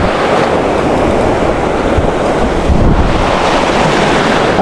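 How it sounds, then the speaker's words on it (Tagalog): Strong sea waves surge and crash continuously at a shallow beach, a loud, steady roar of surf with heavy wind buffeting the microphone throughout and no voices. "at saka ang lakas pa ng alon"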